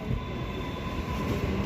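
A Sydney train runs through Central station, giving a steady, close rumble of wheels and carriages with no pauses and no voices.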